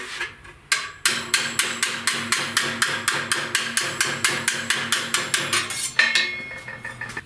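Steady rapid hammer-and-dolly strikes ring out on a steel patch panel for a 1969 Chevrolet C10 front fender, a long even run of sharp metallic blows after a brief pause, close and fairly loud.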